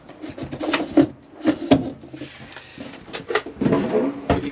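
A kitchen drawer in an Auto Trail Imala 730 motorhome slides open and shut, close-up wooden rubbing and sliding with several sharp clunks and rattles across a few seconds.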